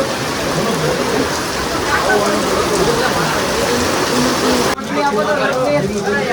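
Steady, dense hiss of rain falling hard on surfaces, continuous throughout, with people talking underneath.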